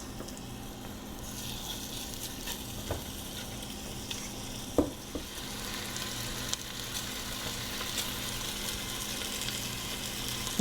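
Beef chunks for Irish beef stew browning in a pot, giving a steady low sizzle and frying hiss throughout, with a few sharp clicks and knocks of utensils against the pot.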